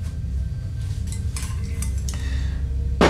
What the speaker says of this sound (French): Je mélange bien pour homogénéiser le tout